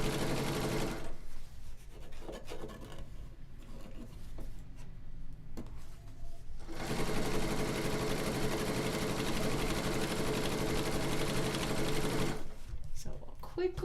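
A sewing machine stitches along a quilt border in two long runs with a pause between, a close, steady mechanical whir and rattle.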